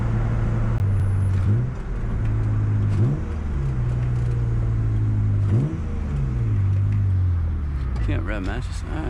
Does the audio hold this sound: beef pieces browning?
no